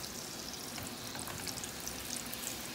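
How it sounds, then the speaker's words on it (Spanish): Tortillas dipped briefly in hot lard make a soft, even sizzle with faint crackles, quiet and steady throughout the short moment. "Nomás pasaditas por la manteca, no son tostadas"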